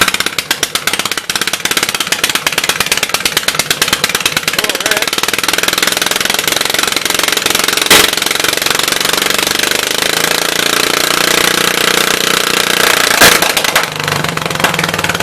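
A 1974 Case 220 garden tractor engine runs close by with a rough, uneven sputter from a fuel problem, a dense rapid knocking that stays loud and steady throughout, with a couple of sharp bangs partway through.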